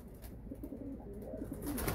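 Breeding pigeons coo softly and repeatedly just after being fed, low murmuring calls close by, alone without talk.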